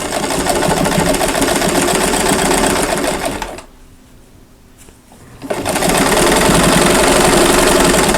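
A sewing machine back stitches across a Christmas mug rug, a loud steady rapid whir that cuts out for about two seconds midway and then resumes at full speed.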